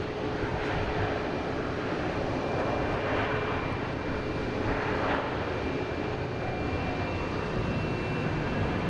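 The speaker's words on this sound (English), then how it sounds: "And next taking off is American Airlines heading to Chicago, 737-800." An American Airlines Boeing 737-800 bound for Chicago takes off at Boston Logan, a steady, broadband jet roar with a faint tonal whine that holds fairly constant throughout, with no talking.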